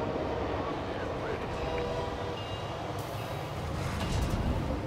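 A train rolls through a StarCraft II co-op mission, a steady, dense mechanical rumble that holds for the whole stretch, with game voices and effects layered on top.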